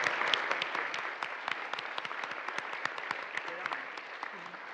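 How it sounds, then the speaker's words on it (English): A church congregation gives a round of applause, distinct hand claps forming a fairly quiet, steady patter that eases slightly toward the end. "I think that deserves a round of applause."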